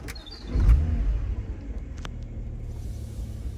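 A 2012 BMW Z4 sDrive35i with a 3.0-litre engine cranks and fires with a brief low rumbling surge, then settles into a steady, muted idle heard nearby.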